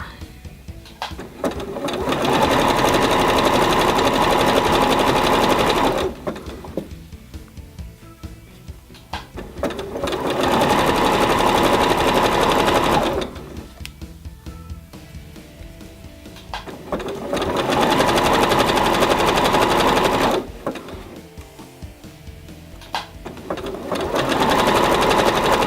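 A sewing machine stitches fold over elastic onto fabric in three long, steady runs of several seconds each, with quiet pauses between them; the motor whirs loudly and evenly with no talking.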